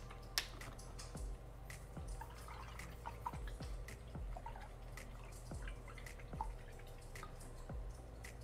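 A paintbrush is rinsed in a water cup, giving soft regular drips and clinks against the container about once a second, faint and close, with no talking.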